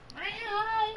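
A single drawn-out cat meow, rising and then holding steady, close and fairly clear for about a second with faint background noise.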